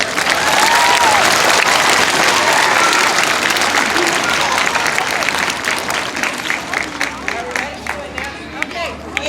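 Applause at an elementary school relay recess event for a parent named Jessie: a loud crowd of clapping with chatter and cheers, strong at first and gradually thinning into scattered claps.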